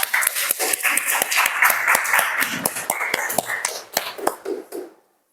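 A classroom of students applauds after a group presentation, a burst of close, uneven hand clapping with sharp individual claps that thins out and stops abruptly, leaving silence.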